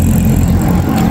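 Street traffic on a busy road in Karachi, Pakistan, with a loud, continuous rumble of car and motorbike engines close by and no pauses.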